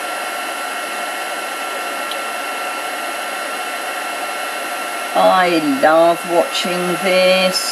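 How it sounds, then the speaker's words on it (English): A heat gun blows steadily on embossing powder over paper, a constant loud airy whir throughout, with someone talking over it in the final seconds. "we really need to make sure that the heat gun is hot"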